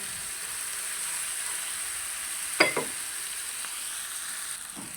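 Spice masala being stir-fried in a pan for fish chutney, a soft continuous sizzle with a couple of brief scraping or clinking stirs, close and without talk.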